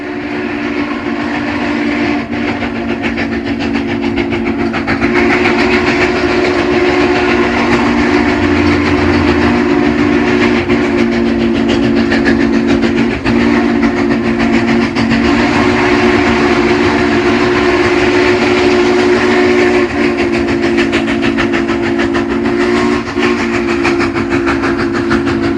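A loud train engine rumbles and drones steadily, with rhythmic rail clatter building as it approaches.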